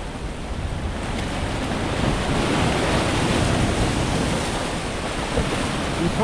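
Waves surge and splash at Tower 7 during a seven-foot high tide, a steady, loud wash of surf with wind buffeting the microphone and no break in the roar.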